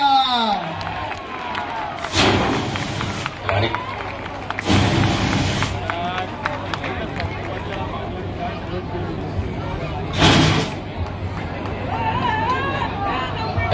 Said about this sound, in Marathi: टाळ्या वाजून त्यांना प्रोत्साहन द्यायचंय।